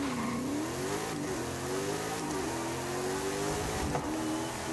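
A car engine in Forza Horizon 5 revs steadily, its pitch climbing and dropping back with each gear change, loud and continuous with no talk over it.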